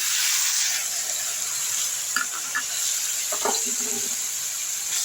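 Onions and tomatoes sautéing in a pan for Tamil-style tomato rice, a steady broad sizzle running throughout with a few faint stirring scrapes and clinks near the end, no talk over it.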